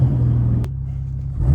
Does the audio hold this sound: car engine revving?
yes